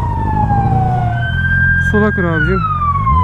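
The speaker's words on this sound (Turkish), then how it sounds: "Bak ambulansa yol açmıyorlar ya." An ambulance siren wailing in city traffic, loud and close with long sweeping rising and falling tones, while someone speaks over it briefly.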